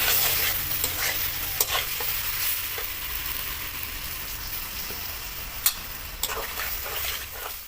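Fried vegetables cook with spices in a pan for shukto, bitter gourd dish, producing a constant close sizzle punctuated by a handful of sharp ladle scrapes and taps, no talking.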